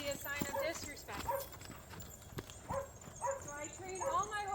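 An Arabian horse's hooves clop on the ground in loose, irregular steps during liberty work, fairly faint and distant, with a steady background hiss and a few brief thuds.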